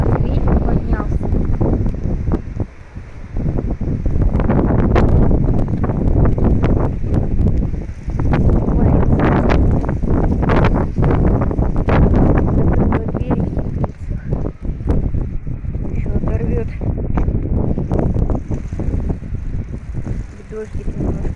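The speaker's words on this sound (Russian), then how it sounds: "Ветер поднялся." Strong wind blows outdoors around a home garden, buffeting the microphone in loud continuous rumbling gusts, with someone speaking now and then under the roar.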